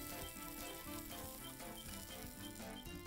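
A single slice of turkey sizzling in hot butter in a pan, a dense, continuous crackling fry that stays loud and steady throughout with no talking.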